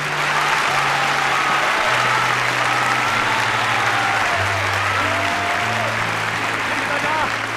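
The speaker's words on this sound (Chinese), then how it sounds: "我想请大家以最热烈的掌声感谢我的学生们和你们自己" An audience at a ballet performance claps warmly and continuously, a dense sustained wash of applause with music playing underneath throughout.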